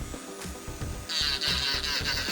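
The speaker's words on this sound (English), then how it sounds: "Now I'm going to take my electric drill" A small electric nail drill whirs quietly while smoothing the top surface of a fingernail, its high whine rising partway through, over faint low rhythmic background noise.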